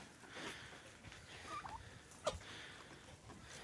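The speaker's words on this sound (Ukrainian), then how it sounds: "Курочки їдять, все чудово." Chickens eat on a farm on a spring morning, with soft pecking and scratching, faint clucks and a gobble-like bird call nearby, with no talking.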